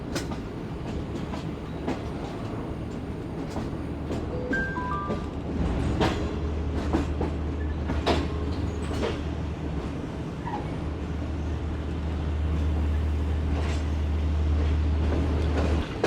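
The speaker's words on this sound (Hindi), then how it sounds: "तो प्लेटफॉर्म नंबर 4 पर लग रही है ट्रेन।" A long train, the Shalimar Express, rolls into platform 4 at Rohri Junction with a continuous rumble, rhythmic clickety-clack and brief squeals, while a low horn-like drone swells near the end.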